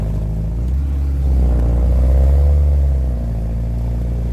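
A 1942 Willys MB jeep in four-wheel drive churns through mud, its engine droning loud and close, swelling into a heavier labouring rev midway, then easing back.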